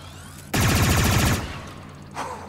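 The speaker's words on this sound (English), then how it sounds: "Lift with the knees, offhand on top, dig in, and start shooting." A mounted rotor gun fires in Star Wars Outlaws, a loud close burst of rapid automatic shots lasting under a second, then fading into quieter ambience with a brief later rise.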